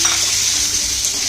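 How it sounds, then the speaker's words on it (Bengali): Ridge gourd fries in white oil in a wok over a high flame, giving a steady, close, bright sizzle that runs without a break for the whole moment, with no voices. "ঝিঙেটা ভাজার সময় একটু গ্যাসের ফ্লেমটা একটু হাই করে দেবেন, তাহলে জলটা বেরোবে না।"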